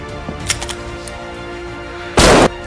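A single sharp gunshot cracks out in a Korean drama scene, loud and abrupt after a few quieter clicks and rustles, then cuts off quickly.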